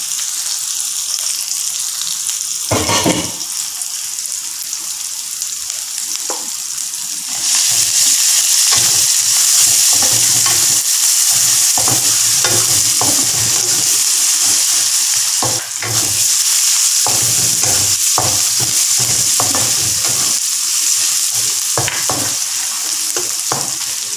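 Onion, ginger and garlic fry in a pan for a Tamil-style broad bean stir-fry, making a continuous loud sizzle that swells partway through, with repeated spatula scrapes and clicks and no speech.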